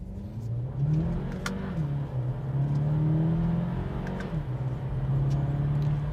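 A 2021 Audi Q2 35 TFSI S line engine pulls through the gears in sport mode, its hum rising and dropping with gear changes, heard steadily from inside the cabin without talking.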